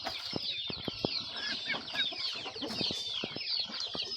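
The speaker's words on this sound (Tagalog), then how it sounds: "Short beak na hen." Hens cluck in repeated short bursts over a steady bed of chirping birds, with a short-beaked hen among the homing pigeons kept on a rural Philippine farm.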